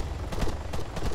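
Gunfire in the military video game Arma 3: a quick burst of sharp, close shots cracking in rapid succession over about a second, with no voices.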